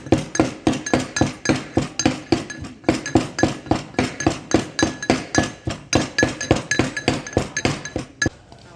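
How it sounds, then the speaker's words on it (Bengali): Hilsa fish being pounded into bhorta at a riverside eatery: a steady, rapid train of sharp clinking thuds, roughly three strikes per second, continuous and fairly close with no talk over it. "দেখছেন ইলিশ মাছগুলো ভর্তার জন্য কি করতেছে, মাছগুলো ভর্তা হচ্ছে ইলিশ মাছ।"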